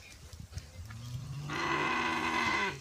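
A cow moos during a veterinary operation to remove swallowed inedible objects from its stomach, one long, loud, close low call rising and holding for over a second after some faint shuffling and handling noises.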